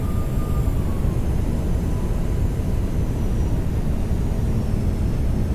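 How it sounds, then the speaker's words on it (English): Boeing 737 jet engines in X-Plane 11 drone steadily and loudly on approach, a constant broadband rumble with a faint high whine gliding slightly downward, no voices. "We'll give her some throttle."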